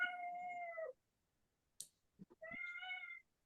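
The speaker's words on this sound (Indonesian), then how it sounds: "Iya, ada kucing yang masuk kamar saya." A cat meows inside a bedroom: two drawn-out, clear meows, one at the start and one near the end, separated by silence and a few faint soft noises, fairly quiet and close.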